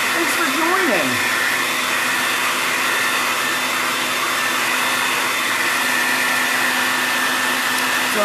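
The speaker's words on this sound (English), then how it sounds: "So I'm just giving this a quick blow dry" A hair dryer blows steadily and loudly on a chalk transfer, a constant close-up whooshing roar that fills the whole stretch with no pauses.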